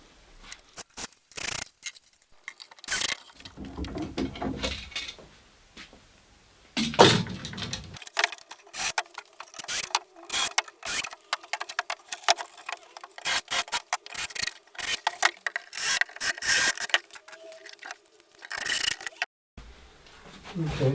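Rough scraping and rasping strokes against wood come in irregular bursts, close up, with short pauses and some handling noise between them.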